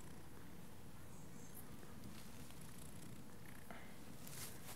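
A cat purrs steadily at close range, a soft continuous low rumble lasting throughout with no voices over it.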